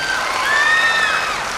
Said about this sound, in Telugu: నాతో ఏకీపించే వాళ్ళందరూ గట్టిగా చప్పట్లు కొట్టండి ఒకసారి.